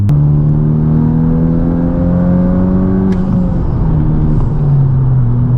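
A Honda Civic Type R pulls hard in fourth gear, its engine note rising steadily and loud from inside the cabin, a droning harmonic whine climbing, briefly dipping and climbing again, with no talking.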